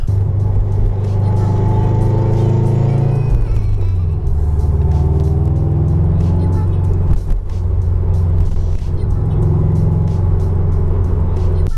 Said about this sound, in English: see if you can hear the transmission whining